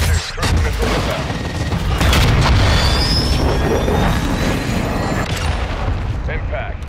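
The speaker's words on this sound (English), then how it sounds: "Trojan 6-2, cruise missile inbound." A cruise missile strikes in Call of Duty: Modern Warfare II, a heavy booming explosion followed by a long rumbling roar with whooshing debris, loud and close, with radio voices talking over it.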